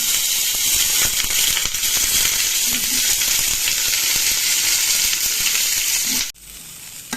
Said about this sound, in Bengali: কপিগুলো ভেজে নেব, তার জন্য দিয়ে দিচ্ছি ফুলকপিটা।